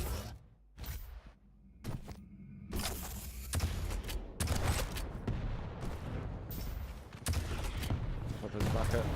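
Rapid nail gun fire in a fast arena shooter duel, bursts of sharp crackling shots and impacts running loudly and continuously with brief pauses, mixed with other weapon noise.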